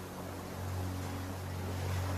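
Ocean waves wash in a soft, continuous surge with a low steady rumble beneath, swelling slightly after the first second and holding at a moderate, calm level with no voices.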